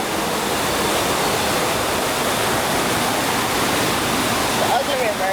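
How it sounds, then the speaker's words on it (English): The Ugly River in St Mary, Jamaica, rushing under a bridge as a dense, constant roar of flowing water, loud and close, with a brief faint voice near the end. "This is the Ugly River."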